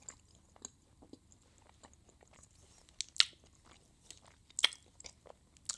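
Someone chews a chewy vegan snack made with orange peel, producing soft, close mouth sounds with a few sharper bites and crunches between quieter stretches.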